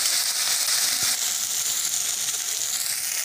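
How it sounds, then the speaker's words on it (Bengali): Ground spice paste for a Bengali-style rui fish curry sizzles and fries steadily in a pan, a close, constant hiss with one brief knock partway through and no voices. "বাটা মশলাটা দেওয়ার পরে বাটা মশলাটাকে ভালো করে একটু কষে নিতে হবে"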